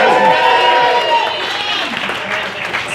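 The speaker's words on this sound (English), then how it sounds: "Let's give a big alumni cheer for the class of 2018." An alumni crowd at a Leadership Prince William welcome event in Manassas cheers and claps for the incoming class of 2018, a loud, dense burst of whoops and applause that fades slightly over a few seconds.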